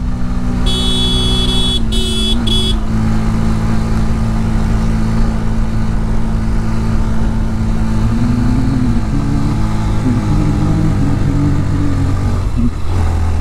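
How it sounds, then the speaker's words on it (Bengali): A Yamaha FZ motorcycle climbs a steep mountain road toward Keokradong in third gear. Its engine drones loudly and steadily, its pitch shifting as it pulls uphill, with a brief electronic beeping near the start. "থার্ড গিয়ার সিঙ্গেলে উঠলে ভাই এফজেড খুব আরামে উঠে।"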